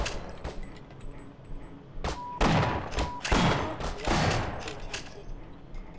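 Gunfire from a Half-Life video game fight rings out in several sharp, fairly loud shots amid clanks and game noise, forming a busy, uneven exchange.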